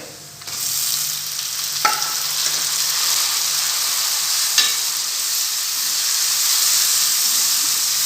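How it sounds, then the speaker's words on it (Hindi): Tomatoes tipped into garlic paste frying in a pot for chicken gobhi, a loud, dense hissing sizzle that surges up and holds steady, with a couple of sharp clinks of a utensil against the pan. "अब मैं डालूंगी इसमें लहसुन का पेस्ट और इसको फ्राई कर लूँगी। अब मैं डालूंगी इसमें टमाटर"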